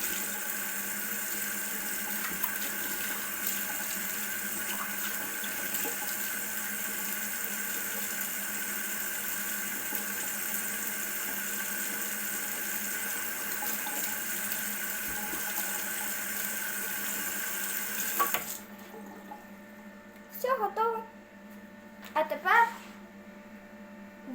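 A kitchen tap runs water steadily onto a hand, a continuous hiss and splash with a low hum beneath, stopping abruptly near the end, followed by a few brief clatters.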